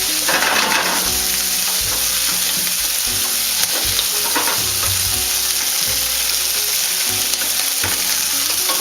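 Onions frying and caramelizing in a pan on a stove at medium-high heat, a loud, dense, continuous sizzle close by with soft stirring thumps and scrapes woven through it.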